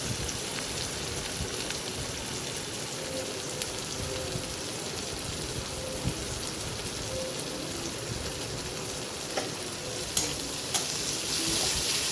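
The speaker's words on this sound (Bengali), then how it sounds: "আমি একটুখানি নেড়ে চেড়ে নিলাম যাতে সব পেঁয়াজগুলো যাতে একটুখানি ভাজা ভাজা হয়ে যায়" Onions frying in a pan for a Bengali rui fish curry, stirred with a spatula: a steady, close, dense sizzle with faint scraping throughout and occasional sharper clicks of the spatula, no voices.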